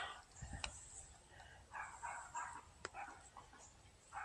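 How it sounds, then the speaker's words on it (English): A small dog named Lucy out on a walk gives several faint yips and barks scattered across the stretch, heard in the distance amid outdoor noise and some speech. "Cute little dog."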